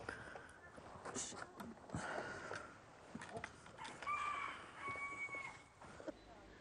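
Purebred chickens in a farmyard, with hens clucking and a rooster crowing faintly, set against open outdoor ambience and scattered nearby sounds.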